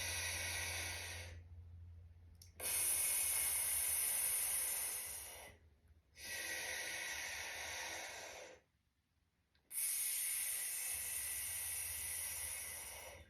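Slow, steady hissing exhales let out through pursed lips during a pregnancy pelvic tilt stretch, three long breaths separated by quiet pauses, close and fairly soft with no talking.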